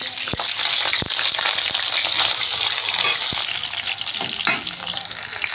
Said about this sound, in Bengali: উচ্ছেগুলো ভাজা হয়ে গেছে